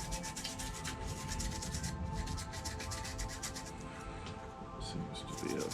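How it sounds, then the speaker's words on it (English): Close, rhythmic scrubbing strokes on a quad bike to clear dog mess, a continuous brisk rubbing with faint background noise. "So I can give this a quick scrub."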